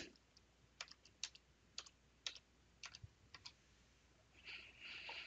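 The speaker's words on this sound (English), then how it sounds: "I'll just type it in." A computer keyboard typed on in a trading demonstration room, with about a dozen quick, distinct key clicks in an uneven rhythm, ending in a brief burst of faster, softer tapping.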